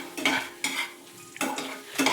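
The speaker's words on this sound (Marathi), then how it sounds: "शिमला मिरची, टमाटे आणि कांदा आणि लसूण थोडासा आणि लसूण ठेचून फ्राय केलेला आहे" Capsicum, tomato, onion and crushed garlic frying in a home kitchen pan, with a few separate bursts of stirring and utensil scraping over a low steady sizzle, fairly close.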